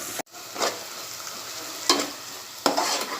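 Onions sizzling as they fry toward golden in a pan for egg masala, a steady soft crackle with a few louder stirring scrapes recurring every second or so, no voices.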